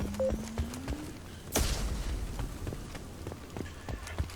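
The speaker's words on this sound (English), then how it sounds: "that little itty bitty explosion" A small explosion in the video game Mass Effect lands as one sharp burst, followed by a scatter of crackling, rattling debris-like impacts at moderate level, with no voices.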